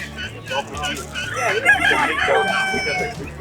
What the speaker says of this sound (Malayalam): ഇവനാണ് ഇപ്പൊ കോഴിയെ കൂവിയവൻ.